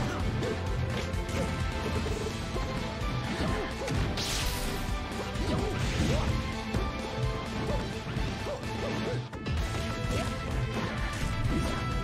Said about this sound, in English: They both just throw out F-Smashes against each other.